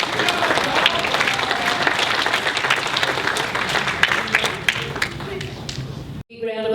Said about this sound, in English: Please give Cole a big round of applause.